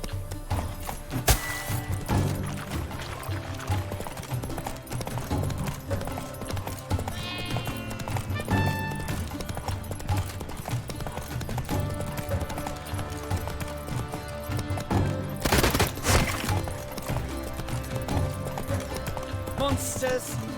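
Roach, the player's horse in The Witcher 3: Wild Hunt's Blood and Wine expansion, gallops with steady clip-clop hoofbeats under game music, effects and a voice talking.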